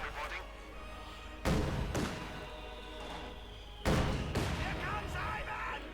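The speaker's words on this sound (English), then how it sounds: "Mortar here, firing right close on Victory 2 as well." Mortar rounds fire twice in Company of Heroes 2, each a sharp heavy thump with a ringing tail, spaced a couple of seconds apart amid battle noise while a commentator talks throughout.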